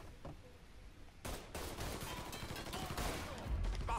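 Gunfire in the Mafia 3 video game, where a burst of rapid shots erupts after a quieter second and stays loud and continuous to the end, close and harsh, with game voices mixed in.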